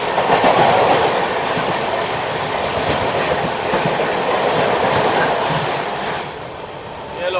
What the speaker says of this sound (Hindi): ये लो भाई साहब गतिमान एक्सप्रेस भी क्रॉस हो गई यहाँ पर।